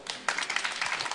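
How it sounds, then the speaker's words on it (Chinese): Applause for the teachers at a farewell dinner in Wardman House at Whittier College, a crowd's clapping swelling into a dense, steady patter after a brief lighter start, lasting about a second. "我想把掌声，热烈的掌声送给惠特学院的全体老师"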